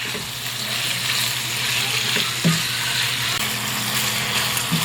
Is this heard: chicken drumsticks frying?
yes